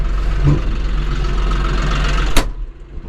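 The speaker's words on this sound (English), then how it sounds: "This is a John Deere 5075E four-wheel drive cab tractor." John Deere 5075E four-wheel drive cab tractor engine running steadily in a hot, dusty South Florida field, a constant low rumble throughout with a brief sharp knock near the end.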